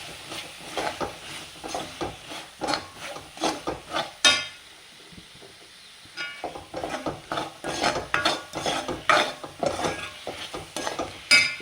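Tomato sauce is stirred into a curry in a pan with steady, rhythmic scraping strokes close by. The strokes pause briefly partway through, then resume over a faint background sizzle.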